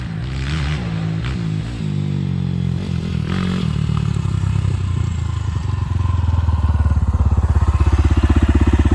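A 2023 SSR SR250S motorcycle rides nearby, its engine revving and rising in pitch as it accelerates, growing louder toward the end over a rushing wind noise.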